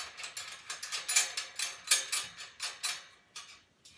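A screw hand-turned through a hole into the hanger of a VIPEK V40 clothing rack, close, crisp rhythmic ratcheting clicks in quick bursts, a dozen or so turns in a row, with no talking.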